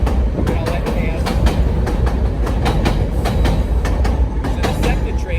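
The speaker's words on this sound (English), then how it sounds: "so the SEPTA train that just passed us" A SEPTA commuter train rolls past on the railway at close range, a loud continuous rumble broken by steady clickety-clack wheel beats over the rail joints.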